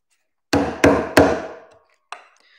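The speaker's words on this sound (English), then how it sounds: "I'm just doing a wedge cut into what was a stop cut" A knife cutting a wedge into wood during small woodcarving work: three sharp, close knocks in quick succession, each with a short ringing decay, then a fainter fourth tap after a pause.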